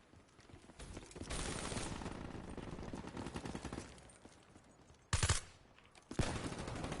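Gunfire in a PS4 shooter game: a long dense burst of rapid shots, then two sharp loud bursts near the end, no talking.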